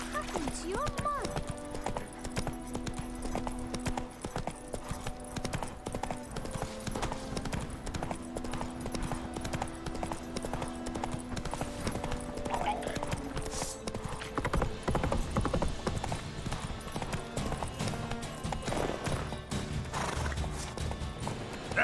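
Roach the horse in The Witcher 3 trots with steady clip-clop hoofbeats and gives loud whinnies, heard under game music and talking voices.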